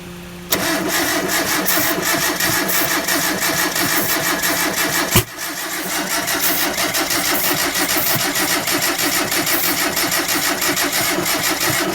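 A 1993 Mitsubishi Mighty Max pickup truck with bad gas in the tank is cranked with a rapid, steady starter churn for several seconds, with a brief catch and surge midway, then keeps cranking loudly and close by.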